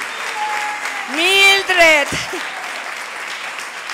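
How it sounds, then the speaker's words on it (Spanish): An audience clapping steadily at a business opportunity meeting, a dense continuous patter with one voice calling out loudly over it midway. "Un fuerte aplauso."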